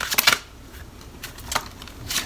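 Tarot cards being shuffled by hand in short riffling bursts, close and fairly loud, with a few separate flurries over a faint background hiss.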